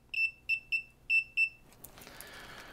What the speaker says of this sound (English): Whereas if I probe this one, I'll get a beep.